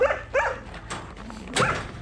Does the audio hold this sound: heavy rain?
no